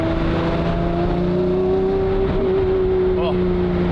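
A Lamborghini Murcielago GT1 race car engine holds a loud, steady drone at a constant pitch with a brief rev blip near the end, heard from inside the car.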